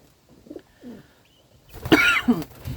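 A Mulimanets breed pigeon coos softly a few times nearby, low throaty calls, followed by a louder burst of rustling and fluttering noise.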